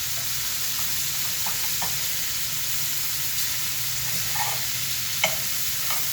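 Sausage for zuppa toscana fries in a pot with a soft, steady sizzle, broken by a few light stirring knocks and one sharper clack near the end. No voices are heard.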